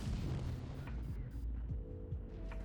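Tank cannon fire in an online tank battle game lands as a series of deep booming shots, several close impacts in quick succession, with no talk.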